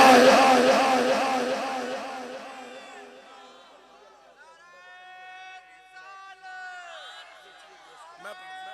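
A crowd at a religious bayan gathering responds to a chanted slogan, many voices rising loud together at first, then fading into scattered calls and a lone chanting voice.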